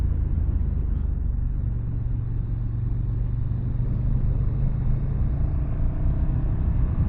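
A 2018 KTM 1290 Super Duke R rides around town in third gear, its engine a steady, close, low rumble that holds an even drone throughout with no talk.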